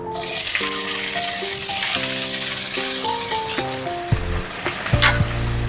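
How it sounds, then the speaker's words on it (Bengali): Finely chopped onion sizzles loudly in hot oil over cumin tempering for a cauliflower dish, a dense, constant hiss with background melodic tones, some stirring clinks toward the end, and no speech. "এবার পেঁয়াজটাকে বেরেস্তার মতো ভাজবো না একটু হালকা করে লাল করে ভাজবো"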